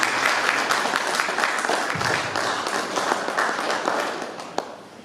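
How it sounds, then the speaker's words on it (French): A church congregation claps together after a sermon, a full, continuous patter of many hands that holds steady and eases slightly toward the end. "On peut applaudir le Seigneur pour la parole."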